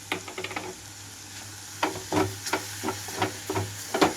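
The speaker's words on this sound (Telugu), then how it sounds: "ఇప్పుడు ఇందులోకి కారం కోసం అయితే నేను గ్రైండ్ చేసి పెట్టుకున్న పచ్చిమిర్చి ముద్దంతా వేసేసుకుంటున్నాను" Green chili paste goes into carrot and moong dal frying in a pan, bringing a steady sizzle broken by repeated scraping stirs in an uneven rhythm, close and fairly loud.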